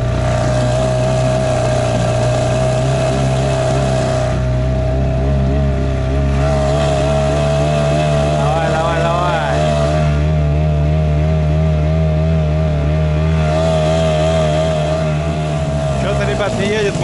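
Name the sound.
outboard boat motor running in frost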